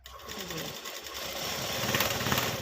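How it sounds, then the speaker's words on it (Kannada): A sewing machine stitches a saree fall, its rapid steady needle hum running close and continuous and building slightly in speed, with no talk. "ಇವಾಗ ಇದನ್ನು ಸ್ಟಿಚ್ ಮಾಡ್ಕೊಳ್ಳಿ"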